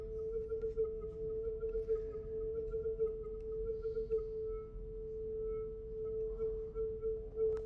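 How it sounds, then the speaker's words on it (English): A 440 Hz sine wave generated in Max software, a steady pure electronic tone held continuously at low level with a faint overtone above it. "it's making a sine wave at 440 hertz"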